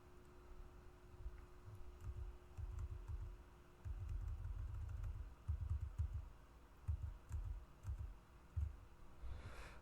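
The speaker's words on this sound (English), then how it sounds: "Use the left down arrow keys" Left and down arrow keys pressed on a computer keyboard, a series of soft, quick clicks in uneven bursts over a quiet background hum, with some taps doubled and fairly close.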